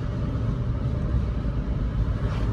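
A 2005 Toyota Corolla on the move gives a steady, fairly quiet low road-and-engine rumble from inside the cabin, with no talk.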